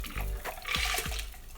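A French 75 cocktail double strained into a glass: liquid pours and splashes in short bursts, with a couple of quick clinks or drips, close and moderately loud.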